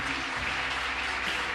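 An audience claps in a steady, dense burst of applause that fills the whole short moment.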